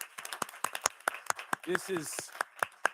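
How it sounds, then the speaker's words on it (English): Round of applause for students at a school district board of education meeting, scattered sharp handclaps in a steady rhythm at moderate distance, with a short voice sound in the middle. "Can we give all of our students that are here tonight and students district-wide a round of applause?"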